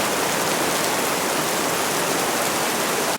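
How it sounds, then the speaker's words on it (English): Heavy rain pours steadily and loudly in a dense, even hiss that fills the whole span without letup, then cuts off abruptly at the end, with no voices. "it started just pouring."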